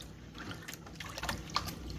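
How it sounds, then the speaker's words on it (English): Warm water poured into a container gives a faint, brief trickling splash, quiet and close, with no voices. "I'm going to pour some of that warm water in first"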